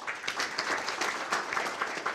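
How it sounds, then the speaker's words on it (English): Sustained applause from an audience at a Jacksonville city council meeting, a dense steady patter of many hands clapping with no break. "Let's give these folks another round of applause for having it completed."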